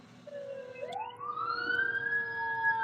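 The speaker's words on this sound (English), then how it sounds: "Sorry, the siren distracted me." A siren wails and rises in pitch, sweeping upward and holding a steady tone, moderately distant with no talking.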